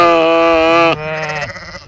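Sheep bleat loudly and close by on a farm, one long harmonic-rich call followed by a shorter, wavering second bleat, with no talking.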